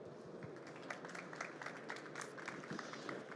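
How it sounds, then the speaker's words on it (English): Applause from a conference audience welcoming a business developer to the stage at a hydrogen and fuel cells event, a dense steady patter of many hands filling the room throughout. "Can I get a warm applause for the business developer, Romuald Chiron."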